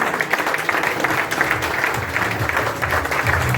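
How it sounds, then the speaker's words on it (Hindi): Steady applause from a crowd at a Christmas event fills the whole stretch, dense and even, with no voices rising above it. "आप सब एक बार खड़े हो और तालियां जोर से लगाएं"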